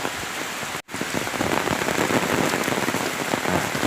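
Heavy storm rain pours down in a dense, loud, continuous roar, briefly cut off for a split second before resuming at the same intensity, with no voices.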